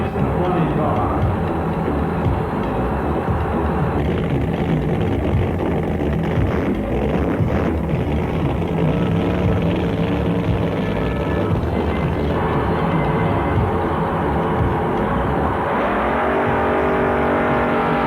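A Mustang drag racing car's engine fires and runs at a drag strip, a loud continuous throaty roar that rises and pulses throughout under an announcer's voice.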